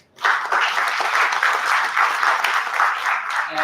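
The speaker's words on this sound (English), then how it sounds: "please give a huge round of applause" Audience applause at a college career counselling event, a sudden onset of brisk clapping from a roomful of people that holds steady and fairly close for a few seconds.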